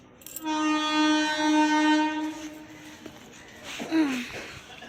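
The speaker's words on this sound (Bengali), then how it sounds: "আমাদের ট্রেন এখন এসে গেছে" On a foggy morning, a train pulls into a station and its horn blares one long, loud, steady tone, followed by low rumbling and a brief voice nearby.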